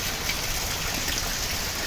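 Heavy rain in Visakhapatnam hisses down in a continuous, even wash of sound, with no voices.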